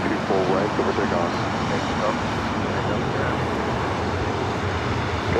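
Steady broadband roar of a heavy jet airliner on the takeoff run at LAX, runway 24 right, loud and continuous with faint radio chatter in the background.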